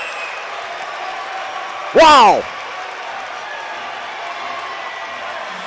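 A high school basketball crowd in a gym roars in a steady, dense wash after a one-handed tomahawk dunk, briefly cut by a sharp sweeping whoosh, while a commentator speaks.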